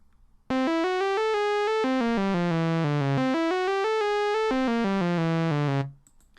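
Arturia Modular-V synth sequencer steps through an ascending row and then a descending row of bright, buzzy notes in a quick, even run, loud and alone, before cutting off.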